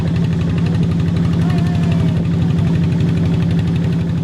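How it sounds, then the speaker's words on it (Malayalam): A motor boat's engine drones steadily and loudly on the Chalong river, its low throbbing pulse running evenly throughout, with no talk. "ഒരു വളവ് തിരിഞ്ഞ് ബോട്ട് വീണ്ടും യാത്ര തുടരുകയാണ്"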